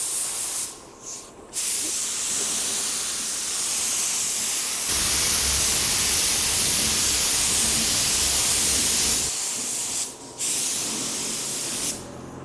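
A spray gun lays a second coat of urethane primer in long, loud, close hissing bursts, broken by a few brief pauses between passes.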